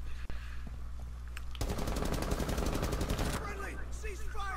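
Rapid automatic gunfire bursts out loudly in a dense, steady rattle for about two seconds, preceded by a single sharp shot, with low background hum and faint sounds afterward.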